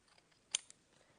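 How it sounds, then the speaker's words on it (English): Scissors snip a die-cut paper penguin shape in one quiet, sharp cut, followed by a fainter second snip in a still room. "So let's just take our scissors"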